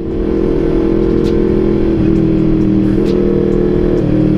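A Honda CBR 250 RR motorcycle ridden fast at night, its engine a steady, loud drone that shifts pitch slightly as it revs, heard close up without any talking.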